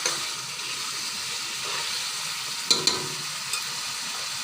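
Spices frying with a fish head in a pan for a north Bengal shidol dish, a steady close sizzle with a couple of sharp stirring clinks near the end, no talk.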